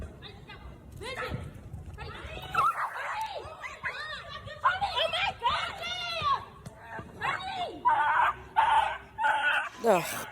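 A dog yips and whimpers in short high-pitched bursts, mixed with excited human voices and chatter, fairly close and loud.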